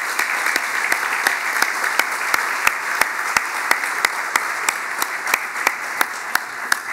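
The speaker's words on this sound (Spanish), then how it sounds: "así que creo que merecen un aplauso." An audience at a talk on food production applauds steadily, a dense wash of clapping with some louder individual claps, kept up for several seconds.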